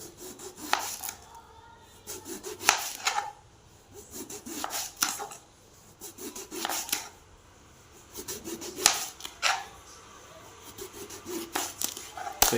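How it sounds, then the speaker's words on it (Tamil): A large brinjal sliced into rounds with a knife, a series of separate crunchy cuts and scrapes arriving every second or two, close by, with quiet gaps between them. "அந்த அளவுக்கு பில்லு பில்லையாக க்ளீனாக கட் பண்ணிக்கலாம்"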